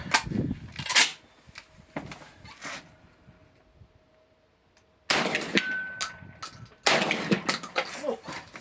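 Rapid rifle shots fired at small steel targets, sharp loud cracks each followed by a ringing metallic clang, arriving in quick bursts separated by a quiet pause.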